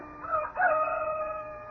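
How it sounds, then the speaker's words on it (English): A rooster crows somewhere in the distance, a single faint, drawn-out cock-a-doodle-doo with a short break before its long final note, alone against quiet background. "beckoned by a rooster somewhere"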